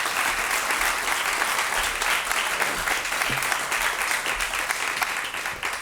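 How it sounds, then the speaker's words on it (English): Audience applause at a talk as a co-founder of the Goonj charity is welcomed onstage, a dense, steady round of clapping from a large crowd that holds at full strength for about six seconds. "can we have another round of applause?"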